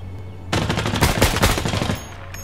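Automatic rifle fire in the tactical shooter Ground Branch, a dense close-range burst of rapid shots lasting about a second and a half, loud and sharp against quiet room tone.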